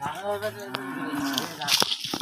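A cow giving birth lets out a long, strained low moo close by, followed by shuffling and brief handling noises, with people's voices faintly around it.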